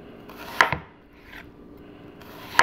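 A knife chops through an onion on a board in two crisp, close strokes about two seconds apart, with quiet rustling between them.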